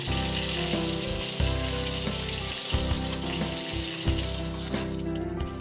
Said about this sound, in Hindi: अपने गोल्डन ब्राउन होने तक अच्छी तरीके से अपने कोफ्तों को फ्राई कर लेते हैं।